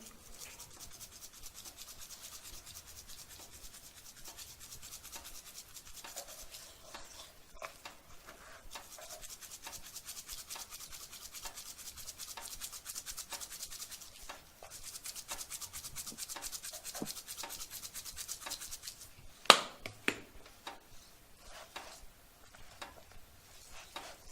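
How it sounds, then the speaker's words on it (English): Hands rub seasoning into raw meat in a kitchen, making a soft, continuous rasping and scrubbing sound that is faint and close. A few sharper taps come near the end, and no one speaks. "just going to give the meat one last rub"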